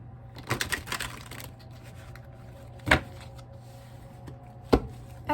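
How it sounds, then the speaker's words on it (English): Tarot cards are handled at close range: a short flurry of shuffling clicks at the start, then two isolated sharp taps, as if the deck is knocked against a table, over a quiet background hum. "Shuffle this a couple of times."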